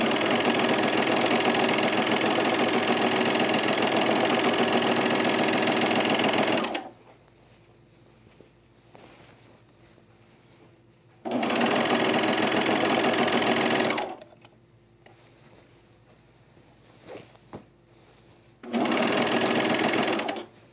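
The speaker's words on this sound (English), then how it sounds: "so I'm gonna serge on the front leg" A serger overlock machine sews the front leg of chino pants in three loud, close, steady humming runs, one long and two shorter, separated by quiet gaps with faint handling sounds.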